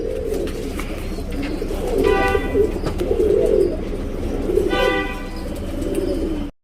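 A male Makshi tournament pigeon coos nearby, giving two distinct throaty rolling coos over a low background murmur, the second coo following a few seconds after the first.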